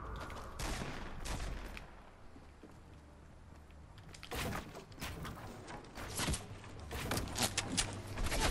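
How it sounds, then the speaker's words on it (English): Bursts of gunfire from Fortnite gameplay, scattered sharp shots clustering in rapid volleys toward the end, moderately loud with a quieter lull in the middle. "His shots are so accurate."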